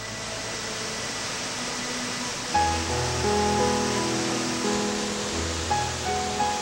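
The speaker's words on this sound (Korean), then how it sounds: "관음폭포는 병풍처럼 솟아오른 바위 절벽과 나란히 자리 잡은 2개의 폭포가 조화롭게 어울린 절경으로 유명한데요" Broad, steady roar of Gwaneum Falls, twin waterfalls dropping beside a rock cliff in Naeyeonsan, Pohang, heard as continuous rushing water with a music bed entering partway through.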